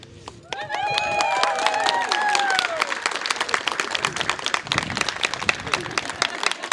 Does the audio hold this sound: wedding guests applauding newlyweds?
yes